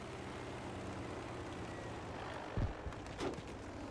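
Propeller airplane engine drone in the World War II shooter game Battlefield V on Iwo Jima, a faint steady hum in the distance with a couple of short thumps near the end.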